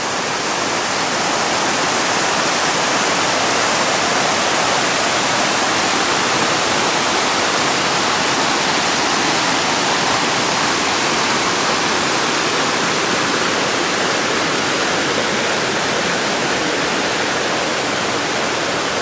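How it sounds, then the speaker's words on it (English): A small waterfall cascade on a trail in Boyana Park, Sofia, pours as a dense, steady rush of water, loud and close, with no break for the whole stretch. "More of what we might realistically call a mere cascade"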